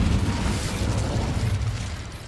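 An Incendio fire spell cast in Hogwarts Legacy, a dense, loud roaring burst of flame with heavy low rumble that holds steady for a couple of seconds.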